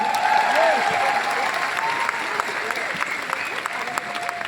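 Audience applause at a live event in India, a dense sustained clapping from a large crowd, loud and even throughout, with a voice speaking faintly underneath.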